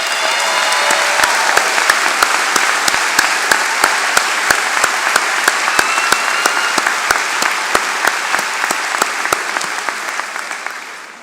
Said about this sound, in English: of applause from your FAU fans